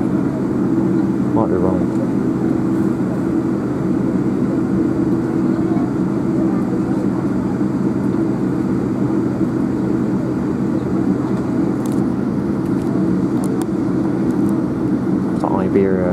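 Rolls-Royce Trent 1000 engines on a Boeing 787-9 airliner at an airport give a steady, loud broadband roar throughout, with people talking over it.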